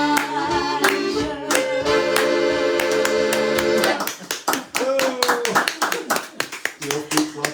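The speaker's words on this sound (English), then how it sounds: "The old people clapping." Applause from an older audience at a kitchen concert, steady hand clapping over lively music, then breaking into looser, uneven claps toward the end.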